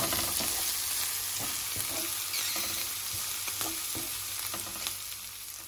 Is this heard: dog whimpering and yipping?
no